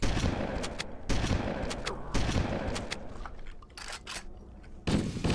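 Rapid enemy gunfire in Halo on Legendary difficulty, with loud overlapping bursts of shots in several volleys and a brief lull before the firing resumes, and no voices.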